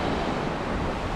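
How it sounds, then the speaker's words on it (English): Steady wind blusters across the microphone over a broad rushing wash, like gusts at the shore with surf in the background, at a beach. "it's starting to get a bit windy now"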